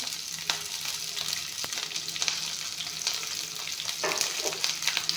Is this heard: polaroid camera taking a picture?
no